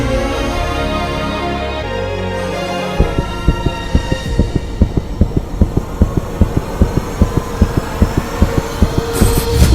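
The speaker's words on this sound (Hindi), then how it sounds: "ये किसी इंसान के दिल की धड़कन नहीं है, मानो कि जैसे किसी मशीन से ऑपरेट हो रहा है।" An abnormal, mechanical-sounding heartbeat thumps in a fast, perfectly regular rhythm, loud and close, following a few seconds of low droning tone with no voices.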